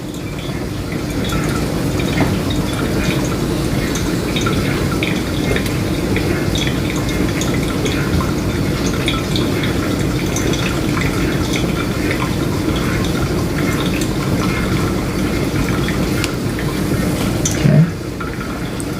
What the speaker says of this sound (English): Just 5 grams over target for our third pour